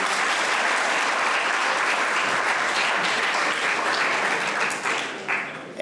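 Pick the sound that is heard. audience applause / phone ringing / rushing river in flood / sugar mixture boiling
audience applause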